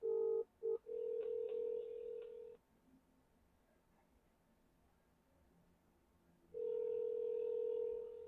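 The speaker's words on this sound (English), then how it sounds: "it's just ringing, no one's answering." A telephone ringback tone on an outgoing call that goes unanswered: a steady electronic tone pulses in short bursts, then one long ring, a silent gap, and another long ring, heard clearly and alone.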